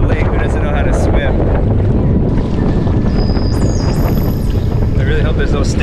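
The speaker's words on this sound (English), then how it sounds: "It really is windy though" Strong wind roars over open sea off Penguin Island, Australia, buffeting the microphone with a constant loud rush, and water noise mixes in.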